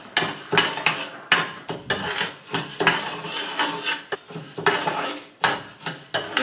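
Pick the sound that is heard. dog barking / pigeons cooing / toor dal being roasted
toor dal being roasted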